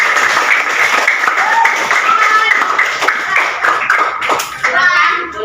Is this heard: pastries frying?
no